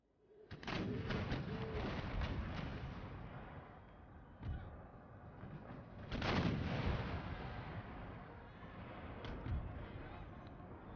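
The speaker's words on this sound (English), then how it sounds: "That is an amazing bombardment." Artillery bombardment in the strategy game Empire: Total War, with heavy booms and rolling cannon fire over a constant battle din. Two strong blasts stand out, and a voice talks faintly over the noise.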